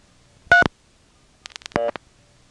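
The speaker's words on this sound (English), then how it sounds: "Now I'll dial a 3." On an old step-by-step telephone exchange, dialing a 3 sets off two short bursts of buzzing, clicking switch tones separated by a run of quick clicks. The sounds are faint against a quiet line.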